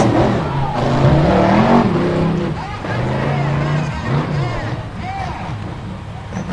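A rock racing vehicle with four-wheel rear steer climbs a hillside course at a rock racing championship, its engine revving and straining loudly with shifting pitch while a commentator talks over it.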